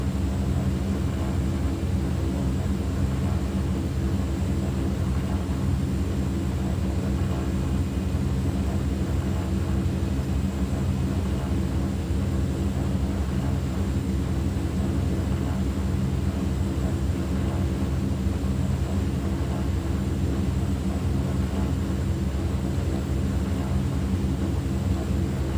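Steady, unbroken drone of a DHC-6 Twin Otter's twin turboprop engines in a flight simulator on approach with flaps set, a constant loud hum with no breaks, heard alone.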